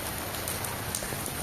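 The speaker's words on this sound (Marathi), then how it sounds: "बघा बघा किती धो पाऊस पडतोय." Heavy rain pours down over a parking area in Dubai, a thick, continuous wash of close drops hitting surfaces, loud and unbroken with no voices.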